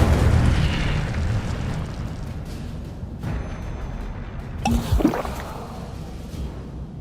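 An Incendio fire spell cast in Hogwarts Legacy erupts as a loud, roaring whoosh that fades over several seconds, with a sharp burst and rumble near the end.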